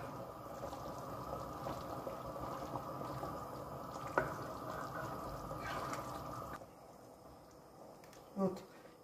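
A pot of lasagna sauce with herbs bubbles on a stovetop, a faint continuous simmering burble with a couple of soft clinks and a quieter stretch near the end.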